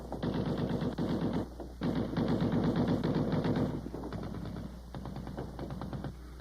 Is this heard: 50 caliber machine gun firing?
yes